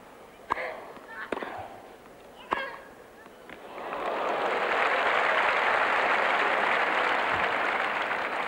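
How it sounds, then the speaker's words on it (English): A few sharp claps and impacts, then a burst of steady applause rising and holding from a distant crowd at a 1995 US Open tennis match. "Monica applauding this shot from Huber"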